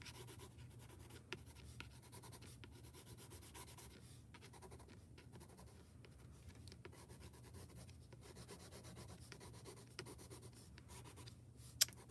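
Arteza watercolor pencils rub and scratch softly across paper while blending shades of blue, a faint, continuous scribbling with light strokes and a few sharp ticks, no talking.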